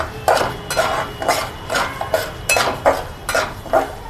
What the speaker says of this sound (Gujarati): રવાનો કલર બદલી જાય ત્યાં સુધી આપણે શેકાવા દઈશું.